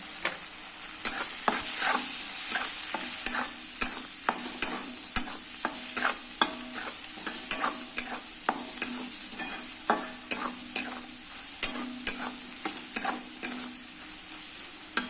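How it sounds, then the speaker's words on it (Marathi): Masala and tomatoes sautéing in oil over very low heat for masala okra, a steady close sizzle with regular spatula scrapes and taps against the pan, no voices. "एकदम कमी गॅसवर मस्त छान तेल सुटेपर्यंत परतून घ्यायचंय"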